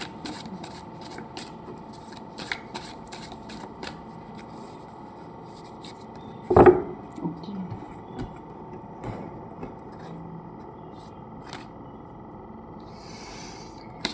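Yoga Path oracle cards are shuffled with quick papery flicks and taps, quiet overall, and one louder slap of the deck partway through.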